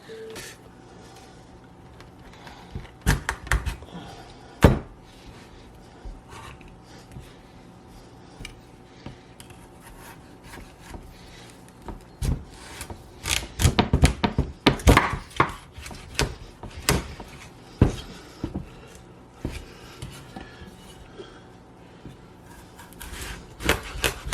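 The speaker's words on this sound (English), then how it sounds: "Okay, so I'm gonna cut mine in half myself." A knife works through a tough butternut squash on a cutting board, making scattered sharp knocks and thuds that come in a dense cluster of hard chops toward the middle and end.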